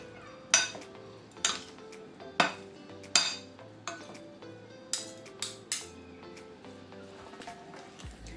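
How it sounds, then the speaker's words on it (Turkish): A utensil clinks against a bowl while tahini chickpea salad is mixed with iceberg lettuce: about nine sharp, irregular clinks and taps over a quiet background, with no talking. "salatamı öncelikle iceberg marulla iyice karıştırıyorum"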